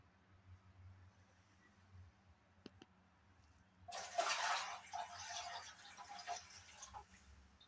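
After a quiet stretch with a couple of faint clicks, water pours and splashes steadily for a few seconds, close by, as soaked grains are drained before sprouting.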